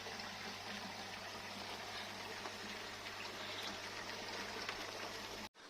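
Water flushes through a koi pond filter tube in a steady, even rushing stream, faint and continuous with no voices, cutting off briefly near the end.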